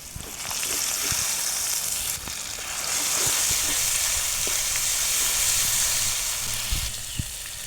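Ginger, garlic and onion pastes fry in a pan for a potato and chicken curry, giving a steady, close, loud sizzle with a few faint stirring knocks and no talk.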